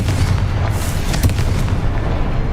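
A loud, deep booming blast from the Confringo spell in the video game Hogwarts Legacy, a sustained heavy rumble with a sharper crack near the middle.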